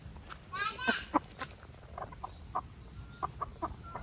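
Native chickens cluck and squawk in short bursts nearby on a farm, a few calls rising above a steady outdoor hum with some voices mixed in.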